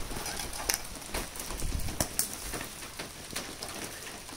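Rain falls outdoors beside a fire pit and charcoal grill, a steady, moderately loud hiss with scattered sharp drips and taps on nearby surfaces, and no voices.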